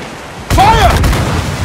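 Ship cannons fire in the naval battle game Assassin's Creed IV Black Flag, a loud sudden boom with rumbling echo. A shouted command comes at the same moment.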